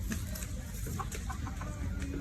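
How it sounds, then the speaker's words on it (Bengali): A chicken clucks softly a few times nearby in a home while a child is being fed, faint against low background noise with no talk. "মুরগি আসছে মুরগি"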